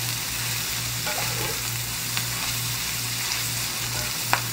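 Cabbage cooks down in a cast iron pan for Hawaiian-style corned beef cabbage, giving a steady, close, even sizzle with a few faint clicks and no voices.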